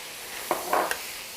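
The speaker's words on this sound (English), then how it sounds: "I just stir this for a moment just to soften up the garlic, but I don't want to scorch it" Garlic and spices stirred in a hot pan: a couple of short scraping strokes over a soft constant sizzle, close and fairly quiet, no talking.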